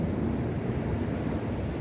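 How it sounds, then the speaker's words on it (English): Big sea waves rolling in near a groyne on a Corton beach, heard as a steady, continuous roar of surf with wind buffeting the microphone throughout and no clear individual breaks. "We've got a few big waves coming in down near that groin."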